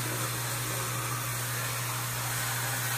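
Tilswall M3 electric scrub brush running at its fastest speed, a steady loud motor whine with a strong low hum and broadband buzz, continuous and close for the whole span with no talk.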